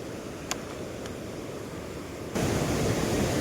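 At a confluence of two Himalayan rivers on the Madhyamaheshwar trail, flowing water gives a continuous broadband roar with a couple of faint clicks. The rush grows abruptly louder partway through and then holds steady.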